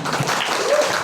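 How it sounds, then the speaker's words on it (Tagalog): Audience applause at a theme reveal event, a brief dense wash of clapping filling the room, steady and moderately loud with a faint voice underneath. "Pero pwede kayo ulit pumalakpak."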